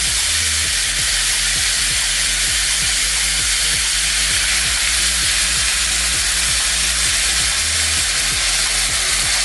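Chicken broth poured into a hot pan for potatoes fondant gives a loud, steady, close sizzle and hiss that holds without letting up.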